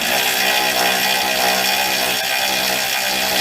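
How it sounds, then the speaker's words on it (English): A power tool tightens the lower control arm bolts on a 2007 Honda Civic during a ball joint job. It gives a loud, steady mechanical whirr that runs unbroken, close up, with no talking. "go ahead and start the bolts and torque them down"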